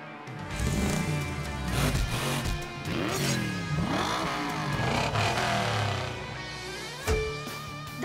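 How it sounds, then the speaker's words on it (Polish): Cartoon monster trucks fire up and rev together, a dense, loud layered roar of engines with rising and falling pitch sweeps, clattering bursts and a sharp accent near the end, continuous throughout. "Mega maszyny, odpalcie silniki!"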